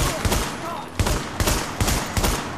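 A turret in the video game The Division fires in rapid, repeated bursts, about four loud heavy volleys in quick succession, with game effects mixed in.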